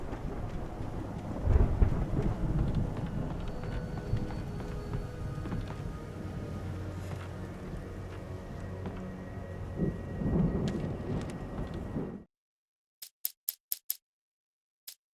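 Thunderstorm in the video game Alan Wake Remastered: a continuous low rumble of rain and rolling thunder that cuts off abruptly into silence, followed by a few sharp isolated clicks.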